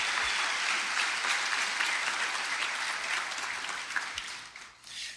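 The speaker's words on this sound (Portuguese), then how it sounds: "Uma salva de palmas para o Diego." A congregation applauds a guest pastor being welcomed to the front of a church, dense steady clapping filling the room at fairly close range, continuous throughout and tapering slightly at the end, with no talk over it.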